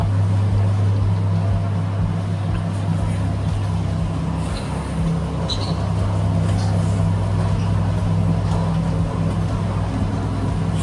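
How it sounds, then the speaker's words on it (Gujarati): A stock petrol engine working model runs on display at a science city, giving a steady loud low drone with a throbbing hum that holds evenly from start to end. "આ સ્ટોક પેટ્રોલ એન્જિન, જો ઉપર નામ લખેલા જ છે."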